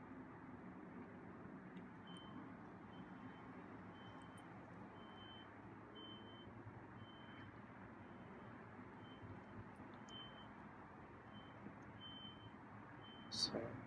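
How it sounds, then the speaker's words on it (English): An alarm beeps outside, evenly spaced faint tones repeating at a steady rhythm, distant and soft over a low rumbling background. "So, hearing some beeping going on."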